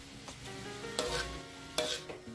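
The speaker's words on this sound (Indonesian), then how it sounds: "aduk lagi sampai rata" Pempek filling without fish, mixed with dried shrimp (udang rebon) and seasoning, being stirred in a bowl: close scraping and stirring strokes with a few sharper scrapes, no talk.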